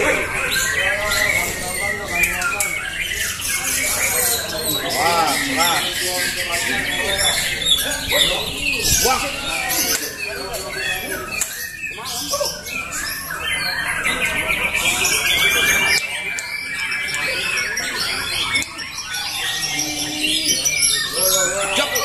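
White-rumped shama birds (murai batu) singing competitively at a bird-singing contest, dense overlapping chirps and whistled phrases sustained loudly throughout, with crowd chatter and shouting mixed in.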